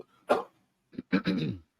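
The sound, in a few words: cough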